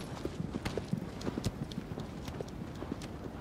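Horse hooves clip-clop in the video game Shadow of the Colossus, a quick, steady gallop rhythm of close, distinct hoof strikes, with light background noise throughout.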